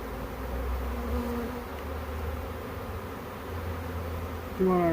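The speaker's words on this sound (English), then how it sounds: "Bees are already covering the" A honey bee swarm in Sturbridge, Massachusetts hums with a dense, steady buzzing close by, many bees droning together without a break.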